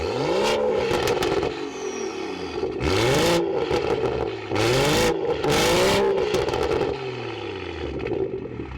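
A BMW M140i's engine is revved repeatedly from idle, each loud, close blip rising sharply and falling back, several bursts spread across the stretch with short pauses between them.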